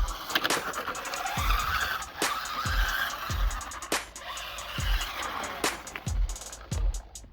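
A 1/16 scale UDI RC car fitted with a new steering servo drives and skids, giving repeated short bursts of tire scrub and whining motor, close and loud, in quick uneven succession with no talk.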